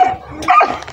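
A dog gives a couple of sharp, close barks with a whiny, yelping edge, all within a second.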